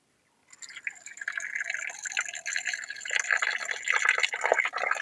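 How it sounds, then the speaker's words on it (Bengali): Raw mutton is rinsed in a bowl of water, starting from silence into sloshing, trickling and dripping splashes that grow busier and louder as the meat is handled, with no speech. "তো চলুন ধুয়ে নিচ্ছি আমরা মাংসটা।"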